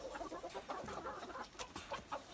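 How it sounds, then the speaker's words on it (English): Chickens clucking outdoors during a family chicken-feeding outing, several short busy clucks repeating close by with a steady scratchy backdrop, no talk heard. "Where's the chicken? Time to feed the chicken."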